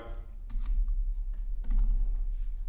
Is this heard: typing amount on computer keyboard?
yes